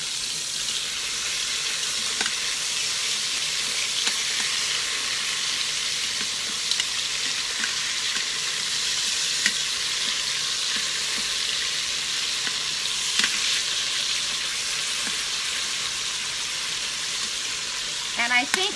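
Hungarian pot roast meat sears in a hot pan with a loud, continuous broadband sizzle and hiss, and a few faint clicks and scrapes as pieces are turned.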